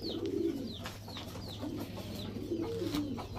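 Soft pigeon coos murmur low and steady amid a faint background hum, with repeated short high chirps from other birds overhead; quiet and without voices.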